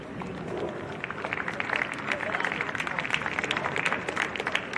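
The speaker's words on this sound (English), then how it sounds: "Now let's take a moment to give our athletes a round of applause." Spectators at a high school boys soccer game between Marshalltown and Des Moines Roosevelt applaud in dense, continuous clapping that rises after the first second and stays loud and even, with crowd murmur beneath.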